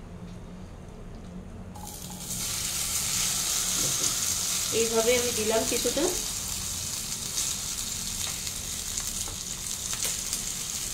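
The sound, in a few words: noodle pancake batter sizzling as it is spread in pan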